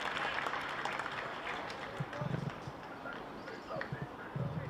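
Applause from the stands at a county cricket ground during an Essex v Hampshire County Championship match, a steady broad patter of clapping with swells, under commentary voices.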